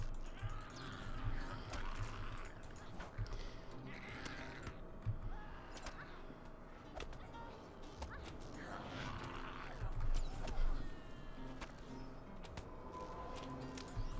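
Crows cawing in the fantasy world of Lord of the Rings Online, several harsh calls scattered over a busy game soundscape of creaks and clanks, moderately close and mixed with other effects.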